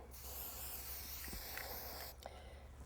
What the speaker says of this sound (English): See, this is just spray paint.